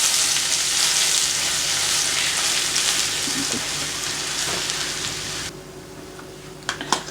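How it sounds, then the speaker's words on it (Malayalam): Ginger garlic paste sautés in a pan for Old Delhi style chicken changezi, a loud, constant sizzle that suddenly quietens near the end, followed by a few light clinks. "അതിലേക്ക് നമുക്ക് 1 ടീസ്പൂൺ ജിഞ്ചർ ഗാർലിക് പേസ്റ്റ് ഇട്ട് കൊടുത്തു ഒന്ന് വഴറ്റി കൊടുക്കാം"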